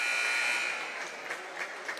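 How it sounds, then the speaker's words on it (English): A basketball game horn buzzer sounds at the end of the half in a girls' high school gym, a loud sustained tone that fades into crowd noise and scattered bursts of noise. "There's a whistle right as the buzzer sounded."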